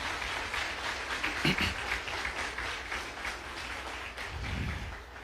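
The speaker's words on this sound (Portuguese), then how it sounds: "Dá uma salva de palmas para eles mais uma vez, né?" A church congregation applauds, with moderate, steady clapping and murmuring voices mixed in, a couple of louder bursts along the way.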